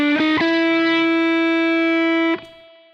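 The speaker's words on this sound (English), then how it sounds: "And this is really more of just a blues scale phrase." A short distorted electric guitar phrase: a few quick picked notes, then one long sustained note ringing out before cutting off.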